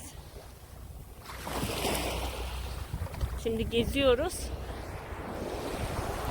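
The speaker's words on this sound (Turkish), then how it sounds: "Şöyle arkamda deniz." Sea waves washing around a sailboat anchored off Barbuda in the Caribbean, a steady surf wash with wind buffeting the microphone while a person speaks briefly over it.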